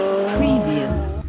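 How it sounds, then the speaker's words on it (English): A racing car roars loudly in a short, close burst, with engine tone sliding in pitch and tyres squealing, as if played as a recorded sound example in a classroom lesson. "Okay, a racing car."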